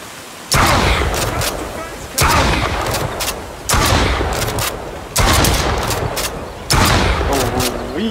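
Rifle shots in the survival game Far Lands: five loud, heavy booming reports spaced roughly a second and a half apart, each with a lingering tail, while someone talks over them.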